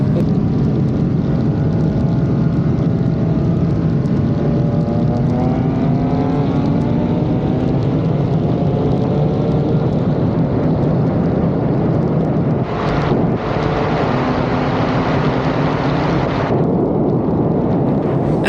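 BMW M4 and turbocharged 135i racing, loud engine roar rising in pitch through gears with heavy wind buffeting, then a brief gap and another sustained engine rush fading toward the end.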